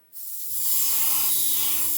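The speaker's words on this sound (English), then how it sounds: "Okay, so just spray some on that paper there." Clear coat sprayed from a can onto a sheet of paper while painting a 1/48 scale model tractor: a close, steady, loud hiss that starts after a brief silence, with a low hum underneath.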